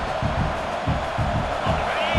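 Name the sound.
stadium crowd noise in video game College Football 26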